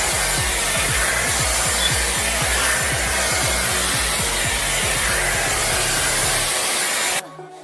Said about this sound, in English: I'm gonna be using my Dyson Airwrap.